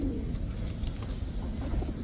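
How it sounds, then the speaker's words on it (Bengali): Steady cooing of female Pakistani Teddy high-flyer pigeons, close by, with soft overlapping coos running continuously through the clip. "সাপচিলা এটাও মাদি কবুতর"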